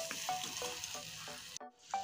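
Potatoes sizzle as they fry with spices in a pan, a steady close crackle broken by short scraping stir strokes, with one brief pause near the end.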